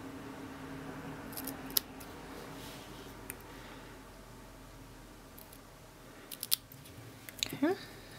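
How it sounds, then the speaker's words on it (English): Small scissors snip a banner end into a strip of paper for a handmade Christmas card, a few faint close cuts over quiet background hiss. "I'm going to cut a little banner end."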